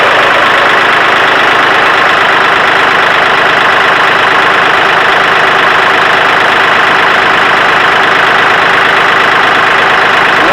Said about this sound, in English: It fired right up.